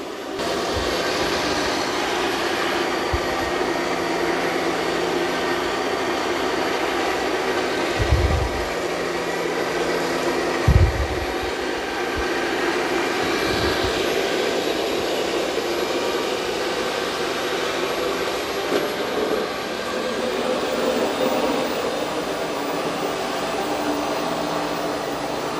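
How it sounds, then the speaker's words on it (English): An ECOVACS DEEBOT T20 Omni robot vacuum runs close by with a constant whirring motor drone, punctuated by a few low thumps as it moves and bumps about, with no voices. "It's doing a good job of vacuuming this"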